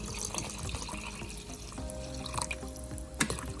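A cup of water poured from a bottle into a cooking pot with minced garlic, a steady splashing pour under kitchen background clatter, no talking.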